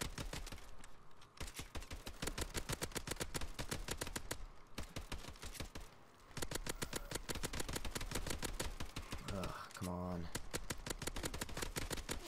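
Rapid automatic gunfire in Call of Duty Advanced Warfare Exo-Survival rattles in long, dense bursts with short pauses between them, and a voice talks over parts of it.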